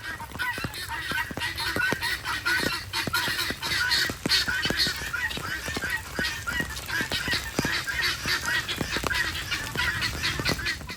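Geese honk and call repeatedly in a dense, continuous chorus beside a pond, loud and close with overlapping cries throughout.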